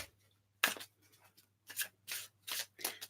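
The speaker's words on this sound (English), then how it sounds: "They're actually rather nice to shuffle for a new deck, as it happens." New tarot deck being shuffled by hand, a handful of short, crisp riffling bursts separated by brief pauses, close and clear with no talking over them.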